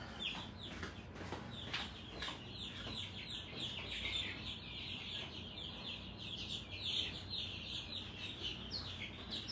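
Backyard hens, including a Silkie and a Polish chicken, clucking and chirping faintly at a distance in a steady, scattered chatter with no talking.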